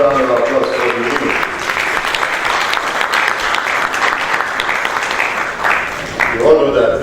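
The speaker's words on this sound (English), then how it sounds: "Another round of applause for you." Steady, dense clapping from the audience at a geography alumni lecture and award ceremony carries on for several seconds at a fairly loud level, with a speaking voice emerging over it at the start and again near the end.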